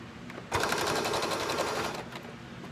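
A sewing machine stitches a mask cord tab in one steady, fast whirring run of about two seconds that starts abruptly, close and alone without talk.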